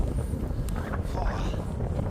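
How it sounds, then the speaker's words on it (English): Gusty wind buffets the microphone beside the River Tees, a steady low rumble of wind noise throughout the short stretch. "Windy."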